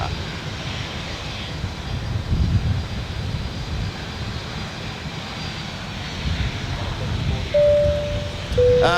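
A fixed-wing airplane taxiing onto the runway at Adelaide Airport, a steady broadband engine rumble that holds fairly even throughout, with a brief tonal whine rising near the end.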